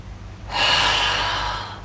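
A single long, breathy inhale during a yoga flow, rising suddenly from quiet and holding steady with a soft airy rush before fading gently, close and alone with no talking.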